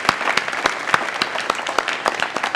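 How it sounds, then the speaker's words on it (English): Audience applause after a fintech panel session, a steady patter of many hands clapping at moderate loudness with a few sharper individual claps, continuing without pause for a couple of seconds. "Round of applause."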